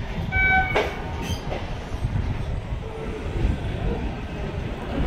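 A Bandel local train runs from Howrah, with a steady rumble of wheels on rails, a loud horn-like tone near the start, and faint squeals, heard from close by inside the moving train.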